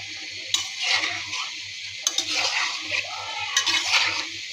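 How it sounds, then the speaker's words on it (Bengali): Cabbage pakoras frying in hot oil, a steady close sizzle broken by three bursts of scraping and stirring. "তেলটা গরম হয়ে গিয়েছে, এখন পাকোড়াগুলি ভেজে নিব।"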